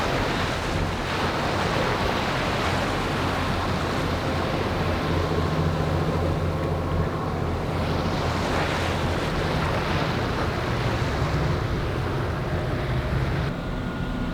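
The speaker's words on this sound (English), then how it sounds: "the waves are building. They're building fast." Heavy ocean waves surge and crash around a boat at sea en route to Boston, a loud, constant roar mixed with strong wind buffeting the microphone, with no voices.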